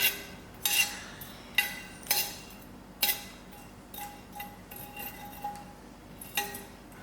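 Light metallic clinks and taps of spices and seeds being stirred in a dry pot, irregular and fairly close, with faint scraping between the strikes and no talk.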